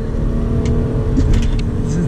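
Hyundai Azera V6 3.3 accelerating on the road, heard as a loud continuous engine drone from onboard, with talking over the engine noise.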